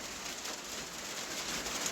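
Rain falls steadily while chickens are being fed, a constant bright patter and hiss with no pauses, fairly loud and close.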